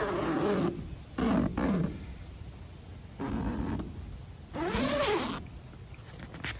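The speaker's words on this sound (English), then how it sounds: "the zipper is extremely quiet as it is. I mean, you can hear it." A Tidewe Vis360 hunting blind's zipper being drawn open in short bursts, three or four quick, close, fairly quiet rasping pulls separated by pauses.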